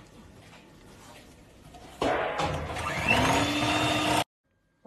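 An electric mixer whips cream with Dream Whip and Kiri cheese, starting as a low hum, then switching to a loud steady whir for about two seconds before cutting off abruptly, no voice.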